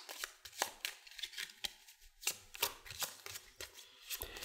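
Cards are shuffled by hand during a tabletop deck-building game, a run of crisp riffling and tapping bursts at an uneven pace, close and fairly quiet, with no talking.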